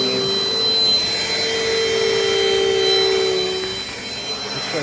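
A Dirt Devil Dynamite Plus vacuum cleaner runs on carpet, a loud steady motor whine with a high tonal hum, swelling slightly as it is pushed back and forth close by.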